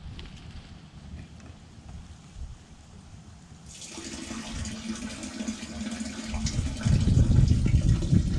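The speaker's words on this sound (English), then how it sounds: "Slowly pour it in there, trying not to splash." Homemade septic treatment slowly poured into an open septic tank, a continuous liquid splashing and gurgling that grows louder and fuller midway and swells further near the end, with no talk.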